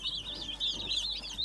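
Day-old chicks, barred Plymouth Rock layers and yellow meat birds, cheeping in a continuous high chorus of overlapping peeps, fairly close.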